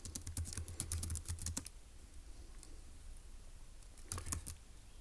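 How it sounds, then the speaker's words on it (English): Fast, light key clicks of typing on a computer keyboard come close and quiet in two bursts, with a short pause between them. "let's go ahead and type that up in our notes in section B"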